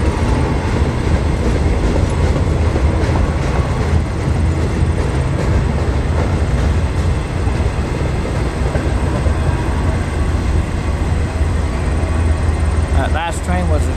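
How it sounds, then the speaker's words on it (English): A freight train rolls steadily past at close range, a loud continuous rumble and rail roar with rhythmic clicking of wheels over joints, and a brief squeal near the end. "This is another elusive train I don't always get."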